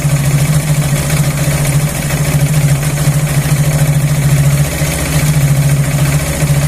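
Motorcycle engine held at high RPM while its air-fuel mixture is adjusted, a steady loud throbbing hum with slight pulsing, running alone without speech.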